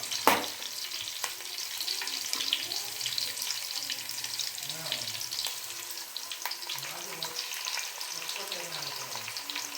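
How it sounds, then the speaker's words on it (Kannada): Onions frying in oil in a home kitchen pan for a chicken masala, a steady close sizzle with an occasional utensil clink and faint water sounds, no talking. "ಈರುಳ್ಳಿ ಫ್ರೈ ಆಗ್ತಿದೆ."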